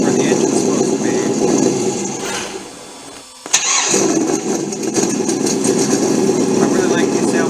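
A loud, steady synthetic engine drone from a sound module in a Losi Baja Rey RC car cuts out for a moment, then restarts with a sharp click and continues idling at close range.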